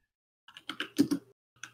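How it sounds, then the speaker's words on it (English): Rapid burst of typing on a computer keyboard, a quick irregular run of close, crisp key clicks followed by a single late keystroke after a short pause. "Hey, you need to stop typing or use push to talk."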